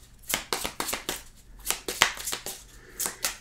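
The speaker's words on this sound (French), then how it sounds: "Je remélange pour pas avoir les cartes de la coupe." Tarot cards being reshuffled between cuts during a reading, giving a quick run of crisp riffling snaps and slaps in uneven bursts, close and fairly loud, with no voice over them.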